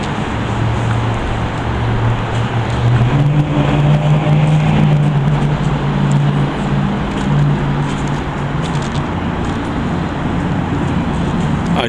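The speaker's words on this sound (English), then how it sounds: "We're getting a lot of noise from the surrounding traffic." Surrounding road traffic near a downtown Tampa parking garage, a steady loud rumble with a low engine drone rising and holding midway as a vehicle passes nearby, no talking.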